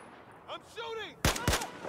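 Gunfire in the video game Battlefield 4: two sharp, loud shots close together near the end, after a brief stretch of speech.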